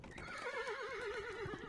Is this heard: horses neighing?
yes